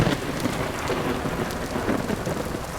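Thunder rumbling from a lightning strike in the game Vintage Story, a deep, loud rolling roar mixed with steady heavy rain, with no voices.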